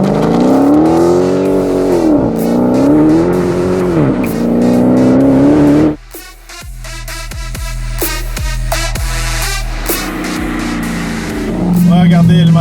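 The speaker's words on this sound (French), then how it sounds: "je conduis le Dodge Challenger SRT Hellcat Red Eye" A Dodge Challenger SRT Hellcat Red Eye is driven on the road, its engine droning and rising in pitch, then a few sharp revving bursts and gear changes follow, with someone talking over it.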